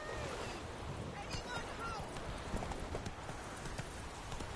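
Roach, Geralt's horse in the video game Witcher 3, gallops with a rapid, even clip-clop of hooves, steady and fairly close over game background sound.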